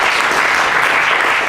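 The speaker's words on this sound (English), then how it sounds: "Everyone give a round of applause for" Audience applause following a personal story shared at a trauma-focused discussion group, steady dense clapping that stays loud and even for the whole short stretch.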